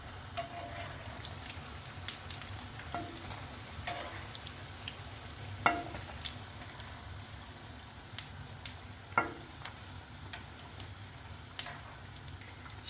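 Zucchini fritters (mücver) frying in oil in a pan, a steady soft sizzle broken by scattered crackles and pops, with occasional clicks from turning the pieces, heard alone.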